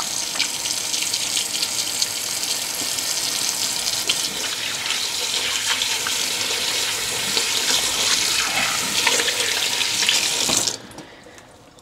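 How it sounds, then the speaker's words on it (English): Hot water runs steadily from a kitchen tap in a continuous, close hiss of splashing while hands are rinsed under it, then stops abruptly near the end. "Bit of hot water to warm up my hands and rinse off."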